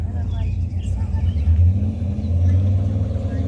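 A car engine rumbles low and close at an outdoor cars and barbecue festival, swelling slightly as if revving, with people talking over it.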